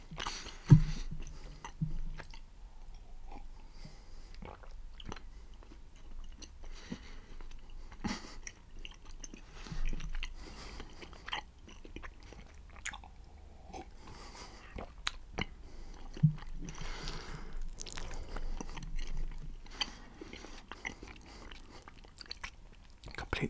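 Close, quiet chewing of a chewy festive chocolate toffee, with soft sticky squishes and occasional bites spread irregularly over a hushed background, with some faint whispering.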